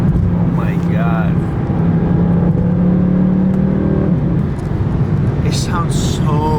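Stock exhaust on a Mercedes C63 AMG holds a steady, deep engine drone with a slight rise in the middle, while someone talks briefly at the start and again near the end.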